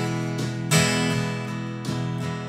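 An acoustic guitar strummed in a groove with accents falling on one and the and of two, ringing chords with sharp louder hits among softer strokes, played alone up close.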